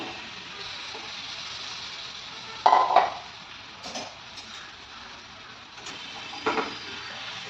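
Boiled cauliflower added to masala frying in its own released oil in a pan, with a few clinks of a spoon against the pan and a faint sizzle underneath, quiet and close.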